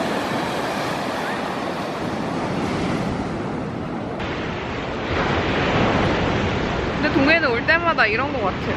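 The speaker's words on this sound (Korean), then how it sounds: "저희는 바다에 왔어요." Sea waves wash onto the beach at Gangneung in a steady, broad surf roar with wind buffeting the microphone, and voices are heard toward the end.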